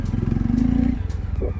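A Jawa 42 motorcycle engine idles and thrums close by in the rain at night, a steady low rumble with a brief rise in pitch partway through and a slight dip near the end.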